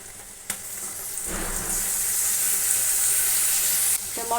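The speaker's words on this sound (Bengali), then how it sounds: "এবার দেখো মশলাটাকে ভালো করে কষিয়ে নিচ্ছি" A steady hiss of ground spice paste frying in a hot pan, with faint scraping and stirring, continuous and close.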